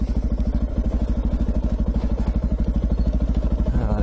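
Off-road motorbike engine running close by on a remote dirt track, a steady rapid pulsing putter held at an even pace throughout with a slight rise near the end.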